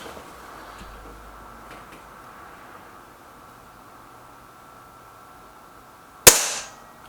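An air rifle, either a Gamo Whisper Sting or an SMK XS36, fires a single sharp crack near the end after several seconds of quiet room hiss, followed by a brief fading ring.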